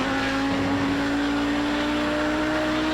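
Audi 90 GTO race car at Road America with its engine droning loud and steady as the throttle is picked back up, a continuous close in-car tone.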